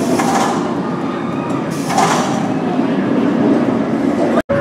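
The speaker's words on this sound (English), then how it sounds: "mine train roller coaster" A steady loud rumble of the Dollywood mine train roller coaster rolling along its track near Timber Canyon, continuous and close, with a brief sharp dropout near the end.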